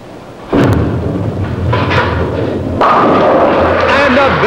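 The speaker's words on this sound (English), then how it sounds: "A strikeout in the 10th frame for Ray Shannon" Bowling ball rolling down a 1960s alley lane and crashing into the pins for a strike in the tenth frame, a sudden loud impact followed by sustained rumbling clatter, with crowd noise and commentary-like voices rising in the background.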